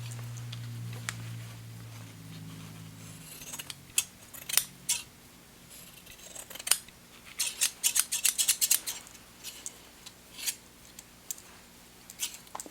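Freshly sharpened fabric shears, honed with a Flathone sharpener, cut cloth close to the listener in crisp, irregular snips. A low motor hum fades over the first few seconds, and the clustered cuts keep coming over quiet room tone.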